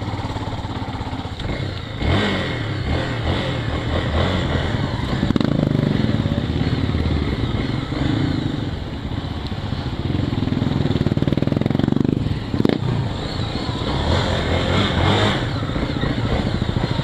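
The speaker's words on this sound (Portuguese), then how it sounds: "Twister barulhenta, que inveja do meu escape original." A loud Honda Twister motorcycle with an aftermarket exhaust revs and drones steadily close by, with rising and falling throttle surges and a few sharp bursts over the whole stretch.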